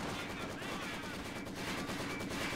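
Machine gun bursts in Company of Heroes 2 as an MG pushes back Grenadiers against conscripts, a dense continuous rattle of gunfire mixed with battle noise throughout.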